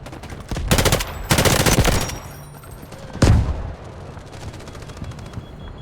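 Gunfire in the video game Delta Force Hawk Ops: loud bursts of automatic fire in two clusters, then a single heavy boom, with fainter scattered shots trailing off afterward.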